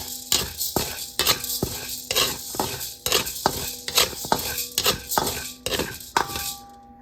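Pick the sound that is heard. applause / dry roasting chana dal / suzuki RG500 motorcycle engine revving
dry roasting chana dal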